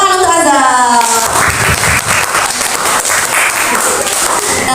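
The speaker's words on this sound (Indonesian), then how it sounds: "kita tepuk tangan untuk Azam." A classroom of children bursts into clapping after a teacher's voice speaks at the start, the applause loud and close, lasting several seconds.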